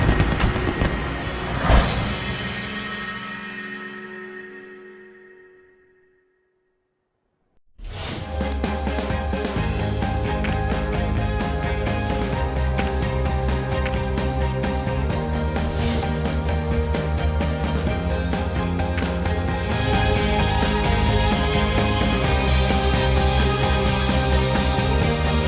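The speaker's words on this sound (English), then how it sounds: "Fireworks to show the start of these games" Fireworks at the London 2012 Olympics opening ceremony: a loud boom rings out and fades into near silence, then a dense, sustained wall of bursts and crowd roar fills the stadium for the rest of the stretch.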